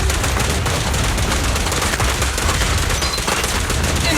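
Continuous rapid gunfire in the video game Zenless Zone Zero, dense and loud with no pauses, close, alone without speech.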